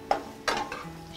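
Dry vermicelli noodles stirred and roasted in a pan for sweet kheer, with two sharp scraping stirs followed by a soft crackling rustle, close and fairly quiet.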